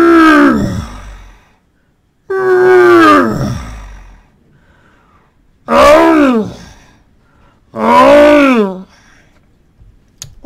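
A voice imitates a lion's roar four times, each a loud, drawn-out growling bellow separated by short silences.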